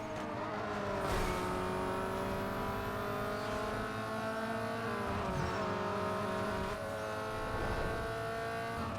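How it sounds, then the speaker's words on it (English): A racing car engine in the video game Need for Speed Underground 2 drones loud and steady throughout, its pitch rising and falling through gear shifts, with brief tire squeals and no talk. "I can actually hear my car now"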